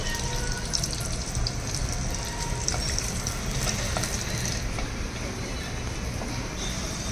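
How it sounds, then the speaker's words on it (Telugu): Coarsely crushed garlic cloves fry in hot oil with a steady, close sizzle and hiss that holds evenly throughout with no talking. "వేడైంది ఇప్పుడు కచ్చపచ్చగా దంచిన నాలుగు వెల్లుల్లి రేఖలు వేయాలండి"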